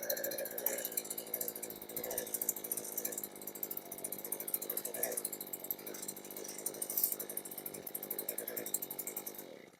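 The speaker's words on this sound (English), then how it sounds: "So first pull on start, and I'm gonna throw the choke about halfway." A Harbor Freight Predator gas ice auger engine runs just after starting on the first pull, a buzzy, high-revving two-stroke drone held steadily at close range, with a person talking over it.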